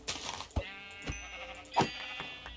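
Minecraft sheep bleat several times in short, spaced calls, fairly quiet, with no talking.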